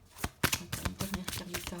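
Tarot cards are shuffled by hand in a short burst of quick, crisp riffling snaps, close and fairly quiet.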